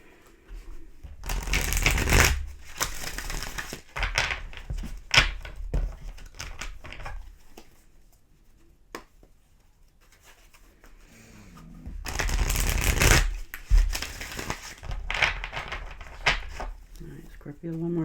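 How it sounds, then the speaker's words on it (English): Tarot cards riffled and shuffled by hand in two long bursts of rapid crisp flapping, with quieter card handling and brief talking between them. "Scorpio, one more shuffle here."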